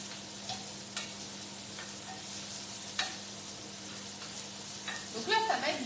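Sun-dried tomato stuffing for Italian-style stuffed conchiglione sizzles steadily in a pan while being stirred, with a few soft scraping taps of a utensil and a busier clatter of stirring near the end.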